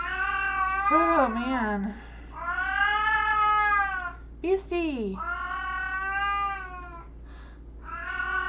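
A domestic cat meows repeatedly and insistently, making long drawn-out, wavering calls close by, with a brief human voice in between.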